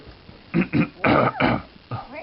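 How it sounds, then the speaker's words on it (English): Someone clears their throat close to the mic in a few short, gravelly bursts, one after another, with brief pauses between them. "Sorry, gotta clear my throat."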